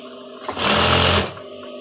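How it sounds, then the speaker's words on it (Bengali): A sewing machine runs a single steady burst of stitching along a salwar waistband, loud and close, starting and stopping cleanly between quieter pauses. "আমি এইভাবে সেলোয়ারের একটা সেলাই দিয়ে নিচ্ছি"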